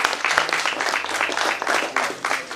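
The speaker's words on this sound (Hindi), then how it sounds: "जोरदार तालियां नाग सर के लिए।" Audience applause breaks out in a theatre for the writer of a musical stage play in Lucknow, dense steady clapping from a crowd filling the whole moment with no voices on top.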